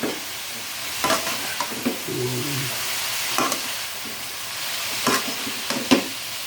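Bean sprouts are stir-fried in a hot pan for vegetable lumpia. A constant sizzle runs throughout, broken by several sharp scrapes and clacks from the spatula at irregular intervals, with no talking.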